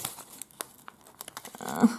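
Short crinkly tearing of a Pokémon card booster pack's foil wrapper being pulled open by hand, scattered soft crackles building into a louder rip at the end, close and quiet.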